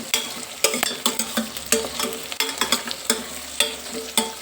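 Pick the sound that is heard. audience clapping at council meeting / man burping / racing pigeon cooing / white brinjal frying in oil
white brinjal frying in oil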